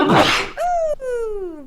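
A single loud, close sneeze bursts out, then an "ooh"-like voiced sigh, alone with no other talk.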